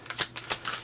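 Tarot cards drawn from a deck give three quick papery swishes and flicks, close and soft, with no talking.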